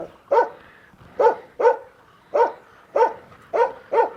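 A dog barks seven times in a steady rhythm, each a short, fairly quiet woof from close range, with no talking.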